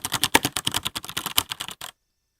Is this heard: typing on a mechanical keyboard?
yes